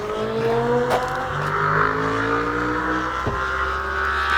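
A Volvo car, an S60 or XC40, pulls away under steady engine drone with gliding harmonic tones and a brief rev near the start, loud and close throughout.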